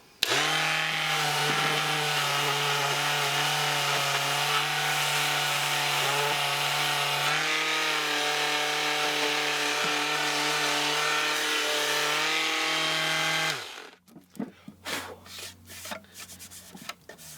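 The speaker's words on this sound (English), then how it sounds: "We have just tried out the Ryobi hand palm sander." Ryobi 18V ONE+ R18PS-0 cordless palm sander working a wooden surface, a loud, steady motor hum with dense scratching abrasion running continuously for about thirteen seconds before cutting off into scattered handling knocks.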